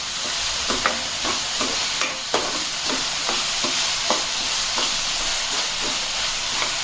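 Shredded cabbage frying in a pan over medium flame, a steady sizzling hiss punctuated by a regular series of soft scraping stirs, close and fairly loud with no talking.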